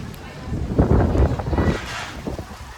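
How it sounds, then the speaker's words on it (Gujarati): Strong gusty wind with rain at night in Deesa buffets the microphone in loud, rough, rumbling surges that swell and fade over a few seconds. "વરસાદ આવે છે ડીસામાં અને બહુ પવન સાથે"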